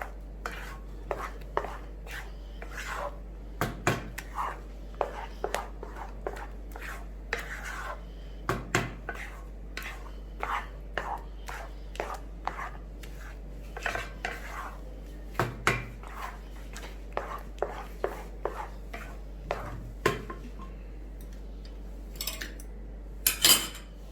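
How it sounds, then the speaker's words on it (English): Cooking mass being stirred with ghee in a pan, giving repeated close scraping and clinking of a utensil against metal in an irregular rhythm throughout, with no talk. "we have to keep stirring till the entire mass rolls in the pan"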